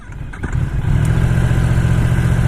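A motorcycle engine runs loud and close, rising from a rough idle into a steady, throbbing drone as the clutch is worked, with no voices.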